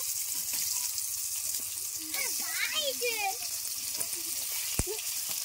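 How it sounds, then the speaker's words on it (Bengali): Pomfret fish, coated in salt and turmeric, sizzle steadily in hot oil as a bright, constant hiss, while a voice talks over it and a single sharp tap sounds near the end. "তেলে আমি মাছগুলো দিয়ে দিচ্ছি, তেল গরম হয়ে গেছে।"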